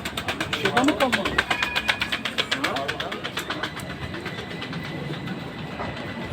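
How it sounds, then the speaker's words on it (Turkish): A tram at Çemberlitaş tram station in Istanbul rolls past nearby with rhythmic clatter over the rails. The clatter eases off into a steady rumble, and street noise continues around it. "Çemberli Taş tramvay istasyonu"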